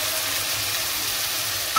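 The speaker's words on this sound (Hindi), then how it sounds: "अभी मैं इसमें टमाटर डाल दूंगी।" Chopped tomatoes sizzle in hot oil with frying ginger-garlic masala for a restaurant-style masala bhindi, a steady close hiss with a faint stirring scrape near the end, and no voices.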